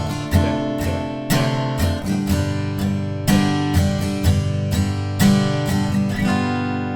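An acoustic guitar strums the chords of a song in a steady down-strum rhythm, loud and close, each chord ringing into the next with no voices.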